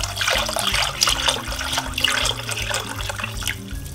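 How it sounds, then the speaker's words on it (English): Milk poured into a saucepan for homemade mac and cheese, a continuous close liquid stream splashing and gurgling steadily for several seconds, fairly loud with no talk. "I'm going to proceed to put the rest of the milk in"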